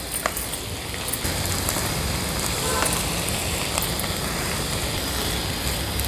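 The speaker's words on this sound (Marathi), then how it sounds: "आता छानशी ही भाजी परतून आपल्याला घेऊन शिजवायची आहे 5 मिनिटासाठी तरी" Young chickpea leaves sauté with garlic in a pan, giving a dense, steady sizzle and crackle that fills the whole clip at close range, with faint clinks of stirring.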